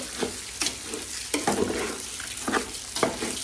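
About 1.5 kilograms of raw rice stirred in a tall cooking pot, with rhythmic scraping strokes roughly every half second over a dry frying hiss, close and clear.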